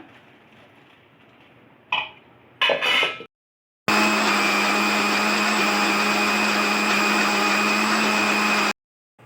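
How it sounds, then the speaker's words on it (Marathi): Mixer grinder grinding coriander, salt, hing and chilli into a paste, a loud steady motor whine running for about five seconds after a few short clunks of handling, then cutting off abruptly. "आतां आमी मिक्सरांतू लायक करून हे गुळयेची गुळी करून तयार करूया"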